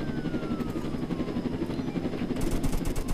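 A helicopter's continuous rotor thrum dominates a Roblox Jailbreak game scene, with rapid bursts of gunfire crackling in toward the end, loud and steady with no talk.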